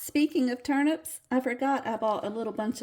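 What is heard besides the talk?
No everyday noises stand out.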